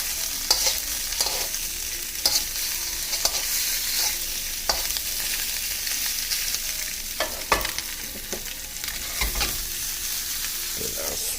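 Chop suey with imitation crab meat sizzles and fries in a pan on a home stove, with a steady hiss broken by repeated scraping and clacking as a utensil stirs the food, close and alone.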